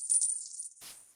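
Small bells cut free from a wedding invitation jingle briefly with a bright, thin shimmer, quiet and close, then fade out.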